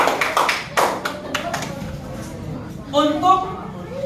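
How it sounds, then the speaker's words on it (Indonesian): Students in a class give a brief round of clapping, several sharp, separate claps at first that fade as a voice starts talking. "Tepuk tangan sekali lagi."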